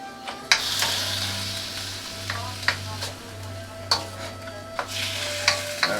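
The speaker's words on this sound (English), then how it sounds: "now we're getting that constant sizzling I like" Chicken yakisoba stir-frying in a pan, a steady close sizzle broken by repeated sharp scrapes and clanks of a utensil stirring the noodles.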